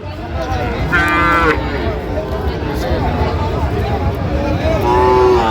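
Young bulls and calves low with drawn-out moos at a busy cattle market at Aftabganj, heard repeatedly under continuous chatter of traders and crowd noise.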